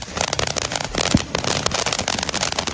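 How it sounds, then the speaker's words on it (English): Rapid crackling bursts and pops from a firework-like effect on a Yoda toy fill the clip, loud and irregular with sharp snaps throughout. "It's that Yoda bursting into flames to show the fireworks."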